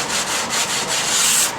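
Someone deburrs the edge of a fiberglass laminate with a run of quick rubbing, sanding strokes. Each stroke gives a short hiss, close up and fairly loud, repeating in a steady rhythm.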